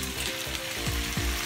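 Sauce poured into a hot pan of seared pork belly for ginger pork, with a broad steady sizzle and bubbling that swells in a few surges, close and loud, no voices.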